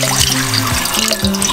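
Water poured into a cooking pot over pork meat for Peruvian chicharrón, a steady close splashing and gurgling with rising tonal filling sounds.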